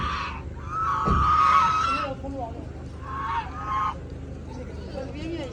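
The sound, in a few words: ducks calling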